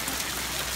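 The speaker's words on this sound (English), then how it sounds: "It's hailing like really." Hail falling outdoors on Christmas Day, a dense steady patter of pellets striking surfaces nearby, loud and continuous with no voices.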